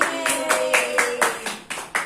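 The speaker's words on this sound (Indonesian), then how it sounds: "Beri tepuk tangan lagi." Schoolchildren in a religious studies classroom clap their hands in about eight quick, evenly spaced bursts, close and fairly loud, with no talking.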